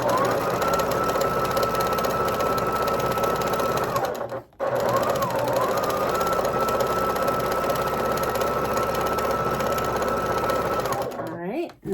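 A sewing machine stitches quilt blocks together with a fast, steady whirring run, stopping briefly once partway through, then restarting and running to a halt near the end, heard close.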